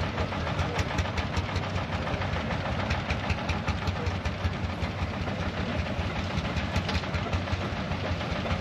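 A Ferguson tractor engine running at a steam fair, a steady mechanical idle with a rapid rhythmic knocking pulse throughout, close and fairly loud, with no talking over it.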